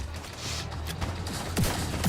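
A teammate fires a gun in a shooter video game, sounding as a rapid cluster of sharp gunshot bursts at moderate distance over steady game background noise.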